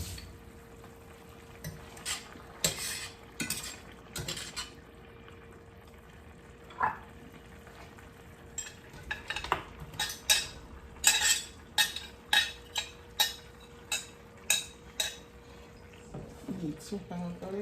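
Goat meat goes back into a pot of Jamaican curry with potatoes, then a spoon scrapes and knocks against the pot in a run of repeated clinks and stirs under a steady simmer, with a person talking at times.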